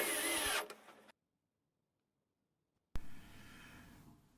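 A power drill drives screws into the legs of a wooden dog bed. A short whirring burst is followed by a silent pause, then another burst starts. No voices.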